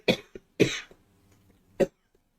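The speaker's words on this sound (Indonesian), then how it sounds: "maaf ya saudara, saya lagi batuk." A preacher coughs during an evening prayer service: two harsh, close coughing bursts followed by a third a moment later, with no talk around them.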